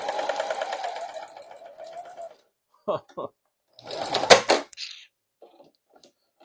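A Singer 4411 Heavy Duty sewing machine stitches slowly with a steady, rapid mechanical chatter for about two seconds, then runs in short, separate bursts, with a voice speaking nearby.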